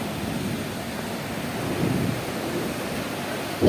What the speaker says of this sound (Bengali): দেখতে পাচ্ছেন আমাদের এখানে কত শোঁ করে আওয়াজ হচ্ছে